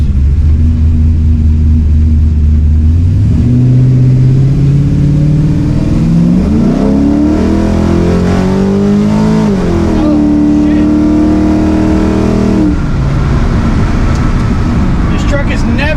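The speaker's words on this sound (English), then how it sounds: "I'm going to turn this thing around and kind of go through the gears." An LS-swapped Dodge Dakota roars loudly and close, its engine note climbing as it accelerates through the gears with clear rising pitch sweeps and shift breaks, steady and continuous throughout.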